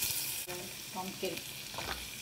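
Mixed vegetables with pumpkin, tomato, red chili and curry leaves fry in a kadai with a continuous close sizzle, broken by a few brief scrapes and knocks of stirring.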